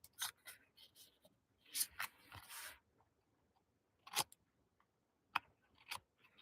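Paper being trimmed with scissors to straighten the edges of a handmade card, with several short crisp snips and crunchy cuts spaced out across quiet pauses.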